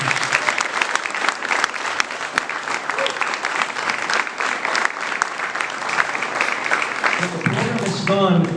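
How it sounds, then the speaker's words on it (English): A concert audience applauds a youth symphony, a dense, steady wash of clapping from a large crowd that carries on for several seconds before fading, with a voice and some stage noise coming in near the end. "So please, one more round of applause."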